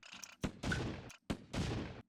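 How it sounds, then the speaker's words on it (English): Mines blow up in a Wii Tank game remake built in Unreal Engine 5. Two sharp blasts come with short thuds before each, close and fairly loud, with nobody talking. "if we drop a mine, ta-da! The box is exploding."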